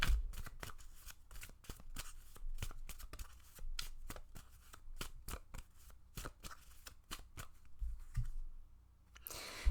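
Tarot cards are shuffled, handled and drawn, a long string of crisp, close card flicks and snaps in an irregular rhythm in an otherwise quiet room.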